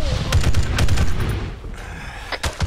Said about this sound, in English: They're throwing grenades at us from up there.